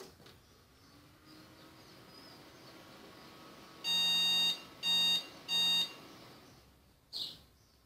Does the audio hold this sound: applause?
no